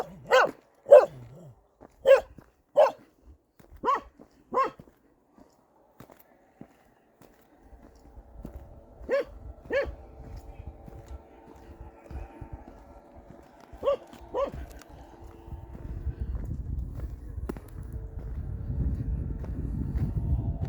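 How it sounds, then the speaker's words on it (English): A small, worried dog among olive trees near the Mediterranean barks in sharp, evenly spaced yaps close by, then falls quiet. A few more barks come later over a rising low rumble. "Got a worried little dog here."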